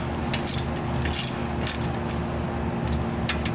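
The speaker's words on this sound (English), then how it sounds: "now you just get a socket wrench" Socket wrench ratcheting on a 1996 Jeep Grand Cherokee during restoration work, giving light metallic clicks and small clinks spaced irregularly over a steady background hum.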